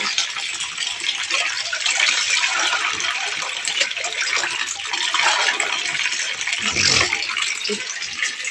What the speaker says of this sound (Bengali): কলে জল পড়ছে আজকে, কাল থেকে সারাদিনই জল পড়ছে